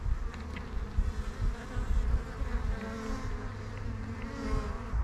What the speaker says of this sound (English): I'm just going to be scooping the new colony or the swarm into this empty space.